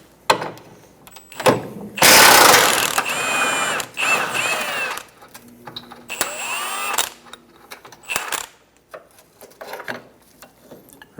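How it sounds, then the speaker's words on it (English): Ratcheting clicks and metallic clanks from a 21mm wrench and socket working loose a rear control arm bolt on a 2012-2020 Chevrolet Sonic, with a sustained burst of rapid ratchet noise and scattered tool knocks, close and fairly loud, no talking. "Using a 21mm wrench and socket, we're going to remove the rear control arm bolt."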